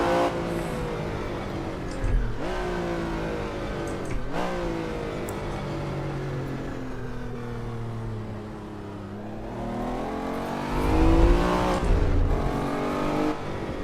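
A Lamborghini Countach with a 5.2-liter V12 revs and accelerates around the Barcelona circuit in Assetto Corsa, its engine note climbing and dropping through several gear changes, loud and close with no talk over it.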